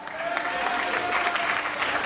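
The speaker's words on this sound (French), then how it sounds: "Applaudissez pour Kassala." Audience applause at a live stand-up comedy show for a comedian, a steady dense clapping sustained throughout at moderate level, with a faint tone running under the claps.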